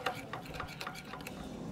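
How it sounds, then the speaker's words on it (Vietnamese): A spoon stirs shrimp paste dipping sauce in a small bowl to dissolve the sugar, giving faint, quick, rhythmic clinks and scrapes against the dish. "Giờ khuấy lên cho nó tan hết đường là mình sẽ chấm với thịt."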